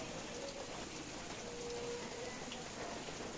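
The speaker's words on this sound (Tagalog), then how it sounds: "Ayan, maulan." Steady rain falls in the mountains near Tanay, a soft, continuous hiss of drops on surfaces heard from close by and fairly faint, with no talking.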